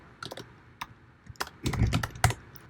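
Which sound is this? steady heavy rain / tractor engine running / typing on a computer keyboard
typing on a computer keyboard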